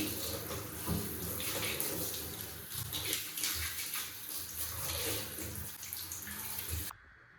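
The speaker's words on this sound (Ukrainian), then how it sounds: "Тепер просто змиваю." Running water rinses cleaning product off a newly installed surface during after-renovation cleanup, a steady close splashing rush like a tap or shower that stops abruptly near the end, with no talking.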